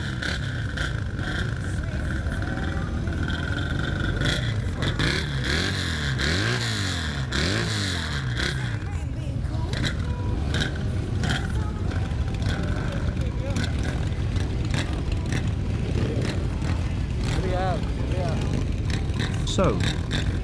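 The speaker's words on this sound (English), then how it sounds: "As you hear, Fernando's XS has a very loud engine sound" A loud Yamaha XS cafe racer motorcycle engine rumbles and revs steadily throughout a group ride, with a person talking over the constant engine noise.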